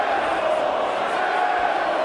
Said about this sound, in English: Did the crowd sound weird to you?